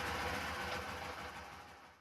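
A Honda CT125 Hunter Cub motorcycle engine idling steadily with a low rumbling hum that fades slightly toward the end, heard alone without voices.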